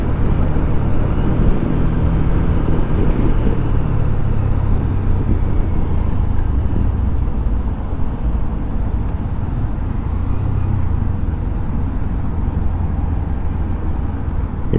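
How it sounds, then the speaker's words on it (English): A Honda CB125F motorcycle engine runs steadily while riding on a road at around 50 mph, giving a smooth, continuous drone mixed with wind rush and no talking. "It really is a smooth engine"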